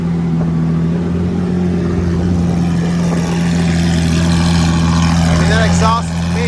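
A 2012 Lamborghini Aventador LP-700's engine drones loud and steady from inside the cabin, its exhaust note constant throughout with a voice talking over it.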